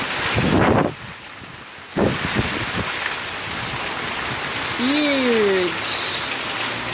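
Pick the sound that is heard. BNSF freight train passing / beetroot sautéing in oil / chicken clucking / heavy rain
heavy rain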